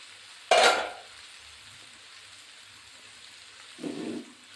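Ragi vermicelli cooking in a pan, with a sharp burst of sizzling at the start that fades into a low hiss, then a second, softer sizzle near the end, close and without talk.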